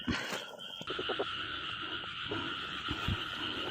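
Frogs croak in a wet field at night, making a dense chorus of rapid, pulsing croaks with a steady high-pitched trill running beneath, close and fairly loud throughout.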